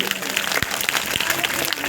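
An audience at a religious gathering claps together in steady, dense applause that stays even for the whole moment, with faint voices mixed into the crowd noise.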